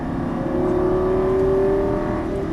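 A Lamborghini Gallardo LP550 accelerating down a straight on a racing track, its engine holding a loud, steady droning note with a slowly rising pitch, close by, no voices.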